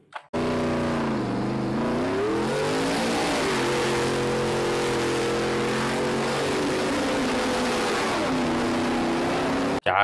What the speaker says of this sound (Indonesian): ada mobil Jeep di sini.